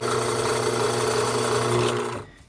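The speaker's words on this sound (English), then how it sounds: "Now I'm going to go ahead and drill the hole." A drill bores a hole in wood with a Forstner bit for a small magnetic ring or coin box, giving a steady, close, loud whirring cut that runs for about two seconds before stopping abruptly.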